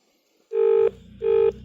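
Phone line ringback tones while waiting for an answer: two short, loud electronic tone bursts separated by a brief gap, alone.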